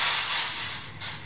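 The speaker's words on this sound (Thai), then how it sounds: "เราจะตั้งน้ำนะคะให้ร้อนเลยค่ะเราก็จะเอาขนมจีบนะคะใส่ลงไปค่อยๆทยอยใส่ลงไปแบบนี้นะคะ" Pork khanom jeeb dumplings going into a pot of hot water, giving a steady close hiss and rush of simmering water with faint bubbling underneath.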